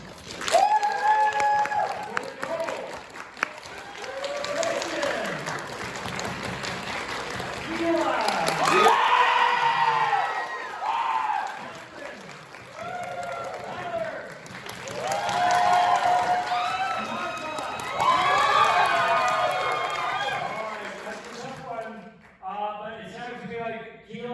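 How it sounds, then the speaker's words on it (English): An audience at a convention voice acting session breaks into applause and scattered cheers, clapping swelling in two long waves before fading, with a voice speaking over the noise. "But for Jay, round of applause."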